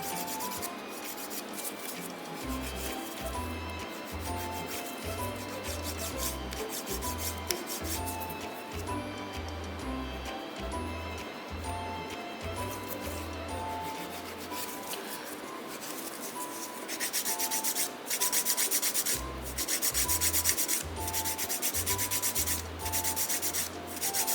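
A nail file rasping back and forth against an acrylic toenail extension in quick rhythmic strokes, close and steady, pausing midway and then resuming more harshly, with no speech.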